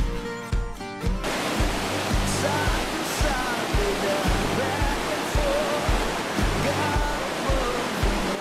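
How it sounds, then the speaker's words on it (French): Water floods into the canal of a wild-river water park ride as its pumps start. It makes a loud, steady roar of rushing water with a rhythmic low pulsing underneath. "Il ne faut que quelques secondes pour que l'eau envahisse le canal."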